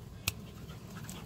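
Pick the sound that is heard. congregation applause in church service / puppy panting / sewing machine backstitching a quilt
puppy panting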